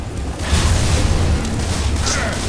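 A gas tank explodes after being shot in Left 4 Dead 2, a loud, heavy boom that rolls on as a dense rumble for a couple of seconds, with voices faintly underneath.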